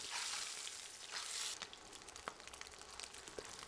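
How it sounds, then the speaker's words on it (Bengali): Eggs fry in oil over medium heat while being stirred continuously, giving a close, bright hiss with scattered crackles and pops. "অনবরত নেড়ে নেড়ে ডিমগুলো ভেজে নিতে হবে।"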